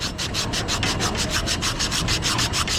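Rapid rhythmic back-and-forth sanding on a brazed copper refrigerant line during an HVAC evaporator coil replacement on a York rooftop unit, close and loud with steady scratchy strokes about six per second.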